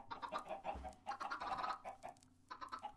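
Chickens in the Minecraft video game cluck in quick, overlapping bursts, several birds clucking close and steadily for a few seconds with no talking.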